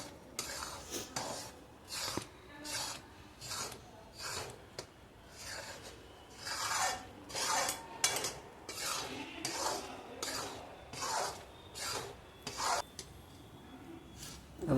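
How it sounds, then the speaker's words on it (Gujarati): Gram flour roasting in ghee for mohanthal is stirred in a pan in steady, repeated scraping strokes, a rhythmic rasping that comes in regular waves, close and moderately loud, with no talking. "લોટ બરોબર શેકાઈ જાય ત્યાં સુધી અને ઘી છૂટું પડે ત્યાં સુધી તેને હલાવીશું"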